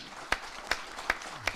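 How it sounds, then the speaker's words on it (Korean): A few slow, separate claps in a hall after a panel discussion on a Korean bio cluster, four sharp strikes evenly spaced over a quiet background. "다시 한번 크게 감사의 박수를 좀"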